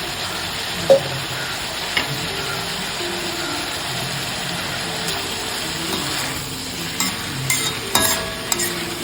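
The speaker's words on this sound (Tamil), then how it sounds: "இப்படி கிளறி விட్டு சும்மா அப்படியே கிளறி விட்டு ஆஃப் பண்ணிடணும்" A ground paste of coconut, fennel and onion is stirred in a frying pan for a carrot fry, giving a low continuous hiss with scattered soft scrapes and clicks from the spoon, with no voices.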